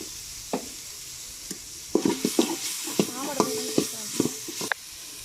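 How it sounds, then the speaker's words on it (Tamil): Onion, tomato and green chilli fry with ginger garlic paste under a steady soft sizzle, while a spoon stirs with a run of sharp scraping clicks against the pan, close by. "இப்போ நம்ம வந்து இஞ்சி பூண்டு பேஸ்ட் வந்து ஒரு ஸ்பூன் போடுறேன்."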